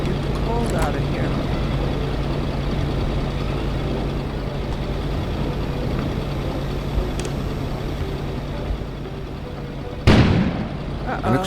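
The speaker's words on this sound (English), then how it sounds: "An explosion suddenly occurred outside." A sudden loud burst from an outdoor explosion in the video game Kona, a sharp broadband blast near the end that cuts through a steady low wintry rumble of wind and ambience.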